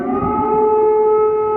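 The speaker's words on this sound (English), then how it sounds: "Air raid sirens have been sounding throughout Kyiv" Air raid sirens wail over Kyiv in a steady, loud tone with layered harmonics that holds without pause, a sustained alarm with nobody speaking.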